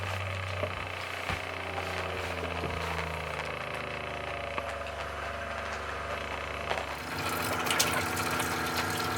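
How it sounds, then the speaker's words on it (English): A small RV water pump hums steadily with a low mechanical drone, then water starts to gush and spray louder toward the end. "Water pump on."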